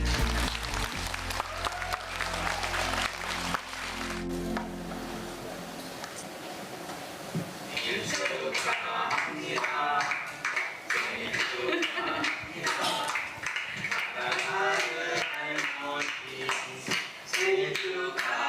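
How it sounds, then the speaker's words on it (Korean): An audience at an Ignite V-Korea talk event applauds warmly, a steady wash of many hands clapping that swells and carries on for the whole stretch, loud and close, with scattered voices and music mixed in underneath. "큰 박수 부탁드립니다."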